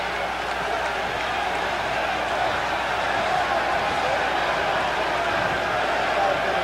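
Haitian crowd roaring steadily at the Orange Bowl during a Haiti versus USA football match, a dense sustained wall of cheering with a commentator's voice faintly beneath it.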